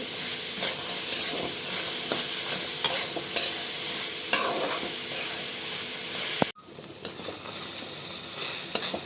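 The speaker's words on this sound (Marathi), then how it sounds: "आणि मिठामध्ये आता थोडं आपण भाजायचं आहे कांद्याचा हलकासा रंग बदलला आहे" Onions dry-roasting with salt in a pan for a Marathi-style onion chutney, giving a steady close sizzle and scraping stir strokes throughout, with a brief sharp clatter and a drop in the sizzle partway through.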